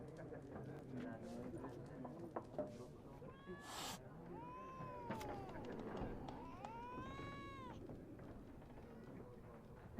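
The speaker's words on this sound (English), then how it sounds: "I hear the cat in game, and I'm like, cat?" In The Witcher 3 video game, a cat gives two drawn-out meows over horse hooves clip-clopping and other game sounds, while a person talks over the gameplay.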